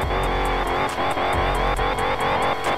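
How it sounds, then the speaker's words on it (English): A Dodge Challenger Hellcat drifts in a driving game set in southwest Florida, its engine droning loudly and steadily while the tires squeal continuously, with faint rhythmic ticking underneath and no talking. "look at these drifts right here. Bro, we're killing the tires."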